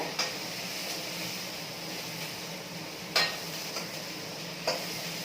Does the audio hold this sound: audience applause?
no